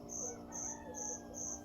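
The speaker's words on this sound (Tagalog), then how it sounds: "Kaya tingog ang kuliglig." Crickets chirp faintly outdoors, one hidden nearby, in four evenly spaced pulsing trills over a low steady background hum.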